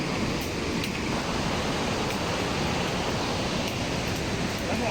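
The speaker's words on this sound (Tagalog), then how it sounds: "Ay, wow! Waterfall!" A waterfall in Taiwan pours in a continuous, even rush of white-noise water, unbroken and fairly close throughout.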